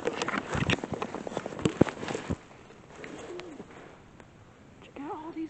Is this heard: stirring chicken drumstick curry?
no